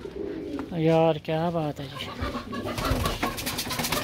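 Pigeons cooing close by in a rising and falling series of throaty coos, with someone speaking briefly over them afterward amid light background noise.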